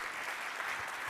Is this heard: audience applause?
yes